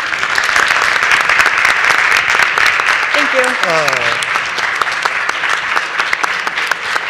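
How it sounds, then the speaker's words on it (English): Audience applause after a question and answer period at an innovation case-study event: loud, dense, continuous clapping from many people, with a brief spoken thank-you and a faint tonal sound mixed in. "Now that the question and answer period is over, you may applaud."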